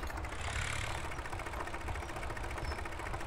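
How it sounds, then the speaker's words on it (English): Crawler tractor with a bulldozer blade attachment idles in Farming Simulator 2017, a steady low mechanical chug with an even rattling pulse, constant and moderately quiet throughout. "Or crawler tractor, should I call it. Because that's what it is, just with the blade attachment on it."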